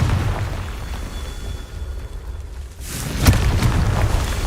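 A Confringo blasting spell goes off in Hogwarts Legacy on hard mode, a sharp burst at about three seconds swelling into a rumbling boom over a low, steady background.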